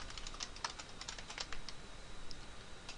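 Rapid typing on a computer keyboard, a dense run of light, close clicking keystrokes with short pauses, heard alone and fairly quiet.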